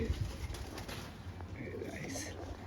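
Racing pigeons at a tournament winner's loft in Barasat coo softly and faintly at close range, amid quiet rustling.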